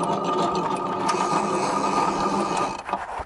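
A GRS top-of-mast three-position semaphore signal runs its mechanism, a steady whirring mechanical drone with gear chatter and ratcheting that holds loud and constant before slowing and stopping near the end.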